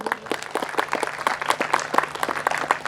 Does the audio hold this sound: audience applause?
yes